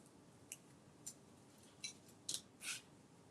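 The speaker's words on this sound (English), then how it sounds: "And then I cut some daisies to decorate." Scissors snip out small paper daisies, a handful of quiet, crisp cuts spaced irregularly, the last few coming quicker and slightly longer, with no talking.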